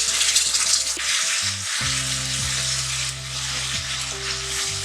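Steady loud sizzling of garlic paste frying in oil with golden onions, with a soft hum running underneath and no one speaking.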